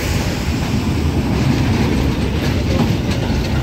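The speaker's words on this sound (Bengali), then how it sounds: "আমাদের ট্রেন ছেড়ে দিল এবং আমরা চলমান রয়েছি" A local passenger train on the Ramna Local route from Kurigram to Chilmari in Bangladesh rumbles along from inside a carriage, loud and continuous, with a dense rattling roar and some wind buffeting.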